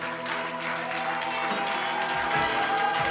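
Church congregation at a charismatic worship service in Chartres applauding, a steady wash of clapping from a crowd over sustained music, moderately loud throughout.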